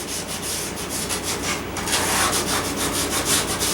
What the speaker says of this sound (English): with very, very fine sandpaper or very fine emery board